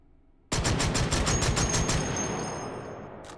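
Shotgun blasts in the VR game Hot Dogs, Horseshoes & Hand Grenades: a sudden loud burst of rapid repeated shots, about a dozen in quick succession, then a long ringing decay fading away.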